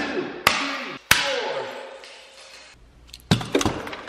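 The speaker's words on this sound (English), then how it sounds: "how many hits can I take with my hammer?" A hammer smashes a Sega Genesis Classic Edition controller with several sharp, loud cracking blows, two close together, then a pause and a quick cluster of hits, with rattling plastic after each.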